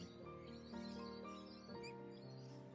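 Galahs and other birds chirp among gum trees in the Australian bush, a layered run of clear, tonal calls and whistles, fairly close and steady, with no talk over them.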